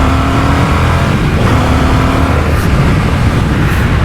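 An Indian FTR 1200 R Carbon motorcycle accelerates hard on pull-off, its loud, close engine roaring continuously with a steady rising drone and no voices over it.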